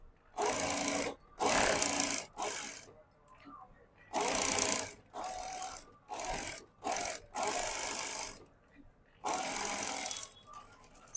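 Sewing machine stitching lining around an embroidered blouse piece runs in close, loud bursts of rapid needle chatter, about eight runs of one to two seconds separated by brief pauses, with no talking.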